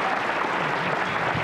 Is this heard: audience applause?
yes